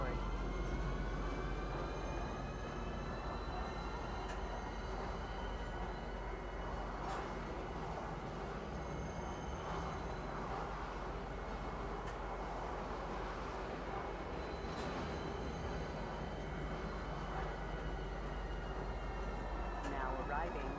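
A train pulling into Tisa Spaceport on Hurston in Star Citizen, a steady low rumble and hum of the moving carriages with faint tonal whines and soft clanks, continuous and fairly close throughout.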